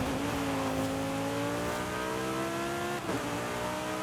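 An Audi R8 V10 revs hard in Forza Horizon 5, its engine note climbing in a smooth, loud, continuous sweep, then breaking briefly and picking up again.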